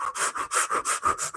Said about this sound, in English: doing a breath, 2 breaths per second